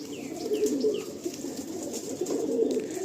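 An adult Andhra pigeon coos in low, steady repeated notes, with faint higher bird chirps in the background.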